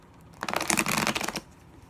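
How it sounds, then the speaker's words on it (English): A single quick riffle of tarot cards being shuffled, a crisp papery flutter lasting about a second, close and fairly loud, with quiet room tone before and after. "We're just giving them one last good shuffle"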